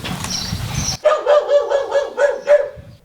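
A ginger stray dog that lived by a roadside in Kirovohrad region barks loudly and close in a rapid run of about six yelps, following a brief stretch of other sound at the start.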